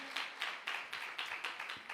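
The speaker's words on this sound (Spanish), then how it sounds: "Denle un fuerte aplauso al Señor en esta preciosa tarde" A congregation at an afternoon church service claps together in an evenly paced rhythm, about eight crisp beats in two seconds, moderately loud with a faint room echo.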